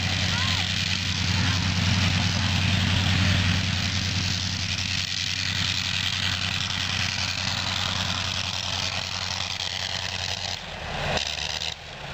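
A 1913 Caudron C3 biplane's engine runs steadily at the runway, a loud continuous drone that holds for several seconds then dips near the end, with a voice talking over it.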